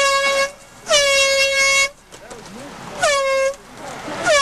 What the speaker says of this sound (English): Joe Redner blaring his air horn at evangelist Micah Armstrong